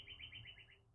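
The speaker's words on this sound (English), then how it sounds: "The birds are out." Short repeated bird chirps after rain, a quick series of high tweets over a low background rumble, moderately close.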